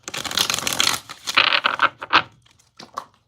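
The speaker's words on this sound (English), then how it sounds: "I feel like I have to do one more shuffle." Tarot cards being shuffled, a rapid riffling rustle for about a second, then several shorter bursts of card flicks and slaps with brief pauses between them, close and fairly crisp.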